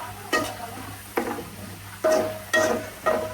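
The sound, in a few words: onions frying in oil into crispy beresta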